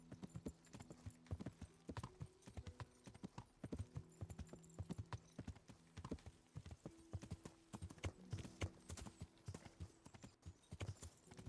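Horse hooves clip-clop steadily in the medieval video game Kingdom Come, a fairly loud, regular trotting rhythm running throughout over a low musical drone.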